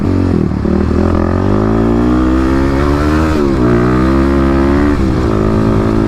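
Kawasaki KLX250/351 dirt bike riding on gravel, its engine droning loud and close with steady harmonic tones that rise and dip as the throttle changes, continuous throughout, no voices.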